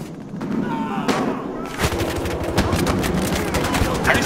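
A double-barrel shotgun fires in a Battlefield Hardline match, with several sharp blasts and thuds over busy gameplay noise while players chatter.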